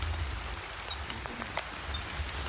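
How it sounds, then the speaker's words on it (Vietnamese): Steady rain falls outdoors in rural Vietnam, a soft continuous patter with scattered drops ticking nearby. "Trời cũng đang mưa nha mọi người. Rồi mưa lắc gắt, tôi là ướt dẹp hết trơn rồi."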